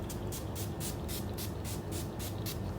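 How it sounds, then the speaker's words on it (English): A setting spray mist (Lila B) spritzed onto a face in a series of rhythmic pumps, about nine short close hissing bursts evenly spaced over steady background noise. "I'm gonna spray a little more of that Lila B now that we're done."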